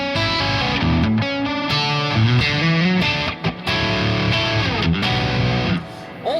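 Distorted electric guitar through a custom tone called Graphene, playing a melodic solo line of sustained, bending notes with rich harmonics, loud and upfront with no talking.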